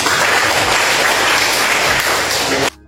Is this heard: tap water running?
no